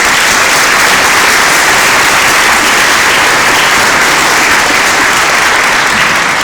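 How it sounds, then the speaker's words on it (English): An audience at a forum on the Indigenous Voice to Parliament referendum applauds a speaker named Thomas, a loud, dense, continuous wash of clapping that holds steady the whole time. "a big round of applause for our last speaker"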